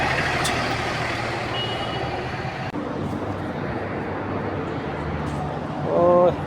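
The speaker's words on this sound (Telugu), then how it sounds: "బస్సు కూడా వచ్చింది" A bus arrives on a Kuwait City street, its steady engine rumble and road noise filling the scene, with a short burst of beeping close by near the end.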